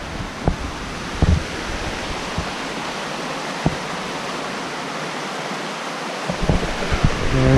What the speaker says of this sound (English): still some pretty, pretty streams.